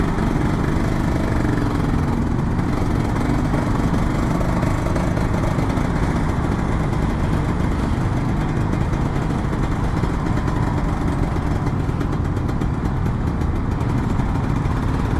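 A 150cc two-stroke Kawasaki Ninja RR motorcycle, an older model, is held at high RPM without shifting gear. Its engine whines as a loud, continuous, buzzing drone at a steady pitch from start to finish, close by.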